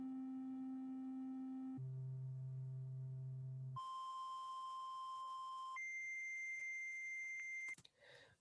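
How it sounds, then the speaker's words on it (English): A synthesizer triangle waveform plays a run of steady held tones at different octaves, each sustained for a second or two before jumping to a new pitch, clean and alone, ending in a short noisy burst. "So here is what the triangle waveform sounds like in different octaves."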